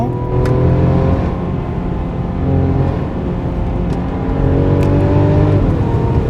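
A 2021 Mercedes-Benz E350 4Matic AMG Line engine holds high RPM in a sustained, loud, steady drone with layered harmonic whine, heard from inside the car with slight rises and dips in pitch.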